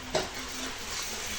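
A spice mix with cardamom and cinnamon is stirred in a hot frying pan, giving a brief scrape followed by a steady, moderately loud sizzle.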